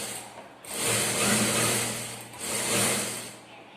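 Sewing machine running a stitching seam on a plain blouse, two sustained whirring runs with a brief pause between, steady motor hum and rapid needle chatter, close and fairly loud.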